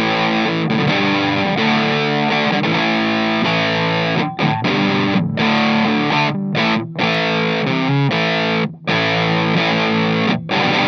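An electric guitar runs through a Danelectro French Toast octave distortion fuzz pedal, loud buzzing sustained chords with thick octave-doubled grit, cut by several short abrupt stops between strums, no talking.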